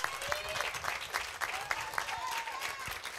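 Steady applause from a crowd at a regional under-16 football match fills the whole stretch, with scattered sharper claps and a faint voice or whistle rising now and then underneath.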